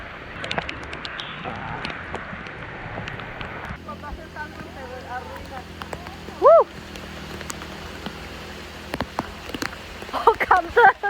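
Steady rain patters through a tropical forest canopy in Mexico, a soft continuous hiss with scattered drops, while a few birds call faintly in the background.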